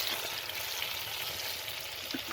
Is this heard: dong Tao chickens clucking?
no